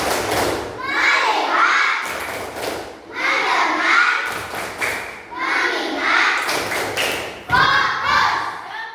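Children chant in rhythm and clap together in a 'tepuk' clap routine, with loud bursts of group clapping and voices repeating in cycles of a couple of seconds.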